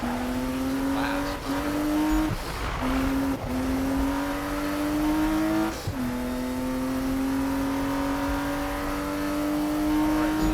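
Race cars in a Project Cars sprint race accelerate hard, one loud engine note climbing steadily and dropping briefly at each gear change, continuous and close with no voices.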